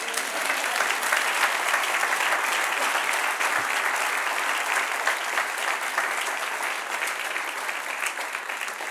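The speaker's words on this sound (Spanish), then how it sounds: "Denle un aplauso al que reina." A church congregation applauds during a Spanish-language sermon, a dense sustained clapping from many people that carries evenly for nearly nine seconds and tapers slightly at the close.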